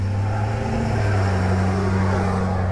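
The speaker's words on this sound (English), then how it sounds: "the traffic noise is picking up" Traffic noise from cars passing near a beach, a continuous low engine drone and road roar that holds steady and loud throughout, with no one speaking.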